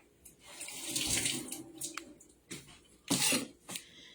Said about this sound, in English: So 4 of these I'm just going to rinse off.